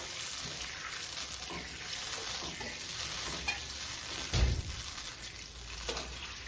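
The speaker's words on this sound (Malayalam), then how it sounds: "ഇത് മട്ടൻ വേവിച്ച വെള്ളാണ്. അത് ഞാൻ ഇതിലേക്ക് ഒഴിക്കുന്നുണ്ട്." Mutton cooking water poured into a pot of fried onions for mutton biryani: a steady broad sizzle and hiss with a brief louder surge midway, close and continuous, no voices.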